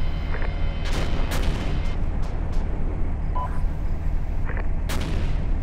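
Sporadic distant gunfire in the military shooter Arma 2, scattered sharp cracks and booms over a constant low rumble of wind or engine noise, irregularly spaced and moderately loud.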